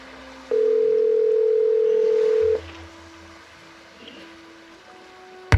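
A telephone dial tone in the Nancy Drew video game Danger on Deception Island: one steady, loud, close hum lasting about two seconds, then a low quiet hum and a faint click.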